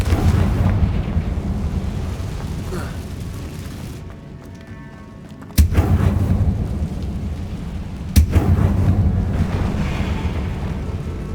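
Confringo blasting spells go off in Hogwarts Legacy inside a tomb, two sharp blasts cutting through a constant rumbling, windy game ambience, the second blast about two and a half seconds after the first.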